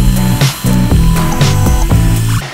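Ender 3 3D printer motors whirring loudly as the head travels to the next bed leveling point, with several stepped tonal buzzes and short pauses between moves.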